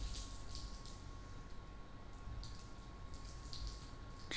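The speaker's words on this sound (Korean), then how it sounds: "자, 물 한번 뿌려 봅시다." Water is sprayed onto a car's paint during a side-by-side water-repellent coating test of Kangaroo Premium versus Bullsone Hybrid, giving a steady broadband hiss of spray and trickling water with a constant faint tone underneath, with no talk.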